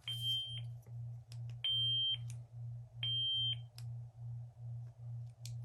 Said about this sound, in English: if you hear a beeping sound like you just did, that means we went into the volume control menu